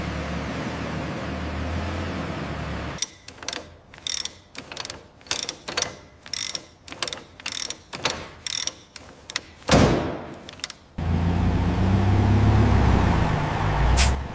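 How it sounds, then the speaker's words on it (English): Pallets loaded onto delivery trucks at a cake factory: a string of sharp mechanical clacks and ratcheting bursts in uneven rhythm, with one loud hiss-like sweep, framed by steady low machinery rumble before and after. "Pallets are loaded into delivery trucks."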